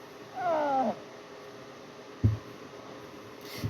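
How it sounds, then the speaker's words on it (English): A cat in a movie end scene gives a single clear meow, close and moderately loud, followed by quiet background and a brief thud. "This is where Clout's magic cat comes in."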